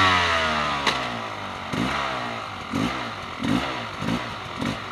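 A motorcycle engine in a training session, started and then revved in several sharp bursts, each rising and falling, close and fairly loud.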